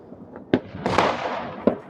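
New Year fireworks bursting over Łódź, Poland: a few sharp cracks and booms spread over two seconds, with a broad rumbling blast in the middle and a final pop, heard at moderate distance.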